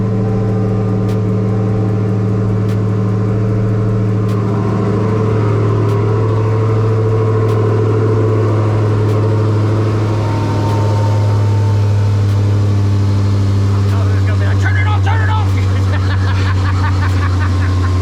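A Dodge Challenger Hellcat's supercharged V8 runs at a cold idle in a garage before an oil change, a loud, steady low rumble that holds throughout with a slight rise and fall near the end.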